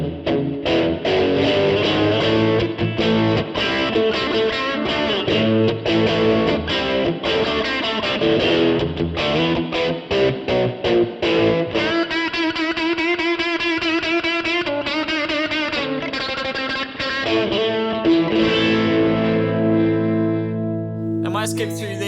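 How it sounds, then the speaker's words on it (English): Electric guitar run through an Overloud vintage amp simulation set to overdrive, loud saturated strummed chords and picked riffs with sustained ringing notes, played continuously and ending in a fading sustain. "let's go to the first of the overdrives."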